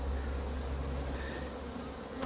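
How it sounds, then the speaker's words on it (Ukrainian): Honeybees from a hive colony buzz continuously in a low, steady hum, close by, with no voices. "Це хороші бджоли."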